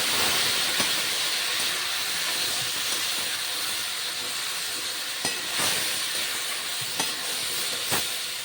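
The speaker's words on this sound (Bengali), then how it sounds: "সামান্য একটু জল অ্যাড করলাম যাতে মশলা পুড়ে না যায়।" Water splashed into frying spices and vegetables for a fish-head spinach dish, setting off a loud, sustained hissing sizzle and steam, with a few sharp clicks of a stirring spoon.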